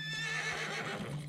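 A horse in the video game Red Dead Redemption 2 gives a single close, loud whinny lasting about a second, with faint hoof sounds underneath.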